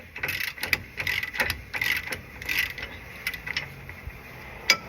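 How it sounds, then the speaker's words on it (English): A torque wrench loosening a bolt on a Jeep, braced against the floor, gives rapid ratcheting clicks in uneven bursts, close and moderately loud with no talk. "I use my torque wrench against the floor and I just hold it so it doesn't fall on my face"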